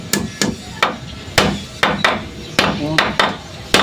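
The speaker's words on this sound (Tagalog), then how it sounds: "papako na yung construction." Hammer driving nails into wood on a construction, about ten sharp, uneven whacks spaced through the stretch, fairly close with faint ambient noise between strikes.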